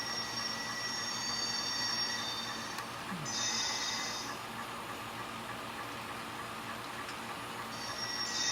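Model train wheels squeal on a layout with EL RS3 locomotives and freight cars: steady rolling rumble with high-pitched squeals coming in and out, moderately loud and close.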